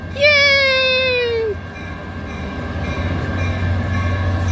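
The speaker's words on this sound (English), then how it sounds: "Train! It's a train!" A Caltrain passenger train with an F40PH locomotive passes in Redwood City, a loud horn blast followed by the rumble and clatter of rolling cars close by, with voices nearby.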